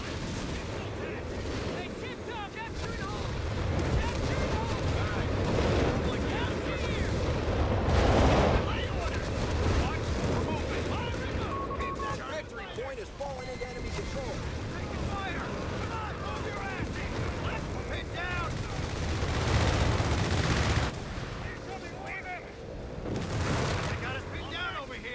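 Gunfire and artillery bursts from a Company of Heroes 3 US Forces 4v4 match, dense and continuous with heavy booming swells, mixed under game voice lines and player talk.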